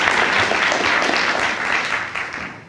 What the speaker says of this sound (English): I hope you'll give her a round of applause for being so brave as to be with us today